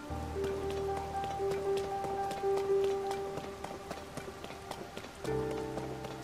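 Rain falls in the video game Zelda: Tears of the Kingdom, a continuous soft patter on surfaces with footsteps running through it, moderately loud and without talk.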